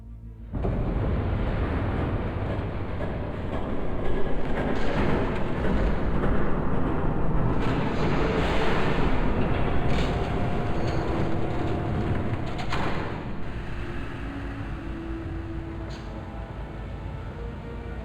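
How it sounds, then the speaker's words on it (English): A train rumbles past in Batman: The Telltale Series, a loud, steady low roar that holds for the whole stretch without letting up. "There's a train coming. Take cover."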